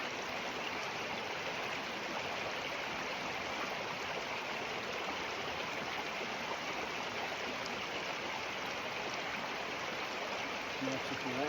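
A river flows steadily, with broad, even rushing water that stays constant and fairly loud throughout, with no other sounds standing out.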